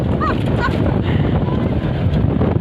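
Strong wind buffets the microphone in a steady, rumbling roar that fills the whole stretch, with no pause.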